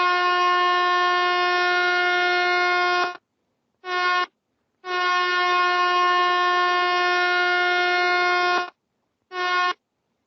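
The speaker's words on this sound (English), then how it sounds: "sound 1 prolonged, 1 short, 1 prolonged, and 1 short blast" A ship's whistle sounds a loud, tonal overtaking signal: a prolonged blast, a short one, another prolonged blast, and a final short blast.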